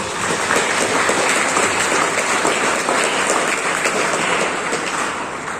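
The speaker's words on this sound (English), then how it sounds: "Clap for both of them, please." Dense audience clapping at a campus talk, a continuous wash of many hands at steady intensity from start to finish, fairly loud and uninterrupted by speech.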